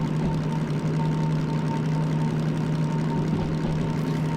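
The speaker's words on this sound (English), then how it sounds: "it's still a diesel engine at the end of the day" Steady low droning hum of a diesel locomotive engine running in the Derail Valley train game, constant and even throughout with a sustained tonal whine on top.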